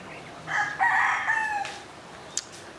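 A lame rooster crows once, close and loud, a single drawn-out call of about a second and a half over quiet background hiss, followed by a brief faint chirp.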